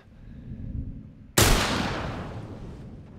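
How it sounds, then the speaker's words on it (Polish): In The Last of Us Remastered on PS5, after a low rumbling moment, a Molotov cocktail held by an enemy erupts in a sudden sharp blast, close and loud, then decays into a hissing, crackling burn. "on miał koktajl Mołotowa, trzymał w ręku, dlatego wybuchł."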